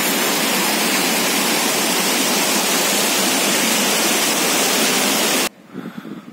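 Hot thermal spring water runs over algae-covered rocks at Thermopylae, a steady, loud, dense rush of flowing water that fills the scene, then cuts off abruptly near the end, leaving quieter background sound.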